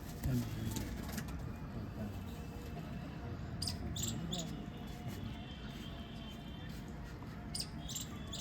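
Paired Islamabad pigeons on a rooftop loft give soft, low cooing that rises and falls throughout, layered over steady chirping insects and occasional sharp bird chirps at a moderate distance.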